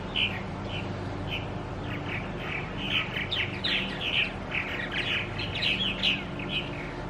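Nesting birds at a house beside Charlotte Harbor in Punta Gorda, Florida, keep up a busy stream of chirps, tweets and squawks, many overlapping calls rising and falling against a steady low background rumble.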